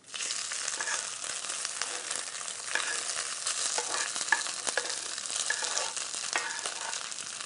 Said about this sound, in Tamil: நல்ல எண்ணெய் ஓரளவுக்கு ஆறுனதுக்கப்புறம் இந்த சோத்தை போட்டு பரட்டிட்டு